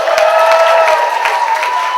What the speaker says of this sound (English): put your hands together and clap really, really loudly, whoops and cheers for our very first act